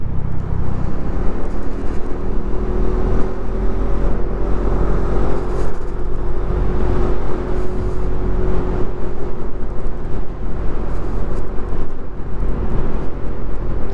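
A Suzuki Address 110 scooter on the move gives a steady, loud engine drone and road rumble that runs without a break for the whole stretch, with no voices.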